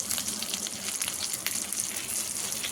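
Rava-coated mackerel fish pieces frying in oil in a pan, a dense, steady crackling sizzle running throughout, close and loud with no voices.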